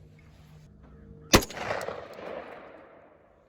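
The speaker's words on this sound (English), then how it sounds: "Now we're going to take a couple shots again and see what the decibels read here." An AR pistol with a thread protector on the muzzle fires one sharp, loud shot outdoors, followed by a long decaying echo that rolls away over a couple of seconds.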